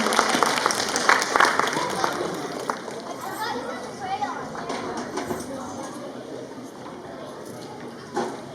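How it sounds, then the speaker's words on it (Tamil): Audience clapping for a third-grade child dressed in a sugarcane costume at a school Pongal celebration, a dense burst of applause that starts strong and gradually thins out, with crowd chatter mixed in. "எல்லாரும் பெரிய கைத்தட்டல் கொடுத்துருங்க"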